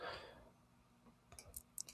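A computer mouse being left-clicked, a few quick, light, close clicks in a loose cluster after a brief breathy noise at the start.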